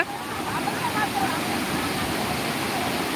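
Water pours steadily at the Courtallam waterfall, a dense continuous rush with no breaks, heavy with the flow, and a voice speaks faintly underneath.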